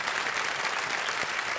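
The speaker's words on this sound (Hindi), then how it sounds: "एक बार जोरदार तालियां बज जाएं इनके लिए।" A studio audience on Kaun Banega Crorepati claps loudly and continuously, a full even burst of applause for a contestant's mother.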